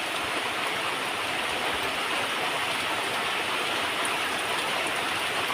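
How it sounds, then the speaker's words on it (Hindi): Heavy rain pours down in a cartoon mountain setting, a dense unbroken hiss of water that stays steady and fairly loud throughout. "क्या इतना जोर से हमेशा बारिश होती है यहाँ?"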